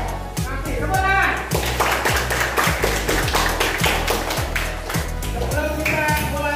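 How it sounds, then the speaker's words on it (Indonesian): Rhythmic group hand clapping in a steady beat, many primary school children clapping together nearby in a classroom with voices chanting along. "Oke, tepuk tangan."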